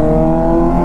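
Kawasaki Z900 superbike engine revving close and loud, a steady sustained high-pitched harmonic roar throughout with no pauses.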